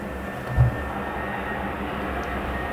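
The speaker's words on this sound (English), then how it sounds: "the plane is coming also to make this reading even more noisy" A fixed-wing airplane passes overhead as a steady, faint low rumble behind a quiet indoor room, with one brief louder thump near the start and no talking.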